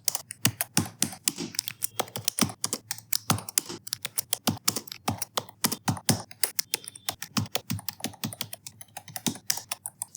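A computer keyboard is typed on steadily, with a dense run of crisp, close key clicks in an uneven rhythm and no talking.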